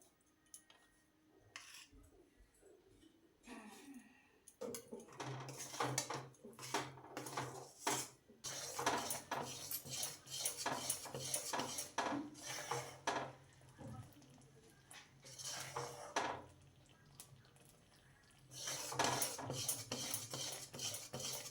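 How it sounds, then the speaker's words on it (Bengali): Date palm jaggery and khoya kheer are stirred in a pan, rhythmic scraping and clinking of a spoon against metal in bursts separated by brief pauses, close and fairly quiet, with no speech. "এটা কিন্তু সমানে নাড়তে হবে, নইলে তলে একদম সাথে সাথেই বসে যায়।"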